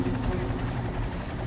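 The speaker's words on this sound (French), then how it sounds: "L'hélicoptère essaie de lui lancer une bouée de sauvetage." A helicopter hovers over an icy river during a rescue after the Air Florida Flight 90 crash on the Potomac, its rotor chop a loud, steady drone with faint voices underneath.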